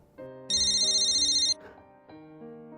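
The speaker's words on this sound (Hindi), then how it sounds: "हरीश अंकल का फोन है" A mobile phone ringtone plays indoors at home: a short bright melodic tone pattern with a loud sustained burst in the middle, then softer notes continuing, alone without talk.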